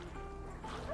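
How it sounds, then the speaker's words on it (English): A dog barks and yips in the video game A Plague Tale: Innocence, brief canine calls set against a murky ambient game soundscape with low rumble. "He stopped barking."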